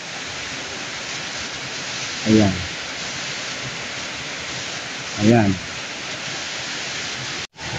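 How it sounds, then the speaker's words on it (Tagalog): Steady, broad rushing of a cold river flowing through forest near Lubcon Falls in Barangay Mabahin, Cortes, Surigao del Sur, continuous and fairly close, with brief talking over it twice. "Ganda ng ilog dito."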